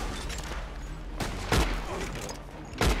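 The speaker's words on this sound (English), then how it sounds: "Oh crap, I'm being shot at." Gunfire in the Red Dead Online video game: a dense, continuous volley of shots with two sharper, louder bursts standing out near the middle and end, fairly close and unbroken throughout.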